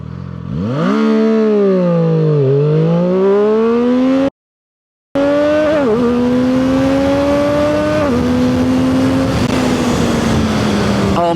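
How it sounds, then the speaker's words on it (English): A Zontes 703R motorcycle engine, running hot, screams up through the revs under hard acceleration, dips, then climbs again and holds at a high, buzzing rev limiter, loud and close, with a brief cut. "We hit the rev limiter, but it was crazy fast."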